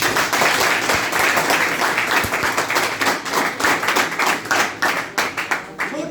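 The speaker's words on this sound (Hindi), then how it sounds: "ताली बजा सकते हैं आप।" Audience at a New Year motivational lecture clapping, a full round of many hands that thins toward the end into sparser, separate claps, heard up close.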